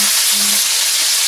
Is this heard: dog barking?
no